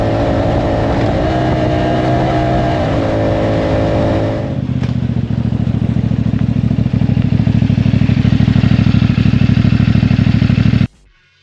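A CFMoto 450 MT adventure motorcycle accelerating hard in 5th gear over rutted ground, its engine drone loud and steady with a pitch shift partway through, ending abruptly.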